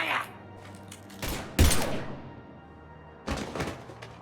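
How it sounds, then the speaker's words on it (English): In Mass Effect: Legendary Edition, a few sharp gunshot bursts crack out in separate clusters over a low in-game ambience, with speech faintly present. "Now open fire!"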